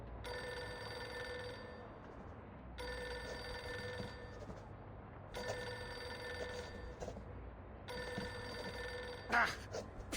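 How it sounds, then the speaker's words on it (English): An old-style telephone bell rings in the Reverse 1999 video game, four long repeated rings spaced evenly over a low background hum, with a short voice near the end. "What are you waiting for, Friedrich? Pick up the phone already."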